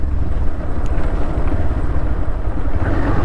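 A Bajaj Pulsar 150 BS6 motorcycle engine runs loud and close, a rough continuous drone revving toward 4000 rpm while the rider shifts gears, with no talk over it.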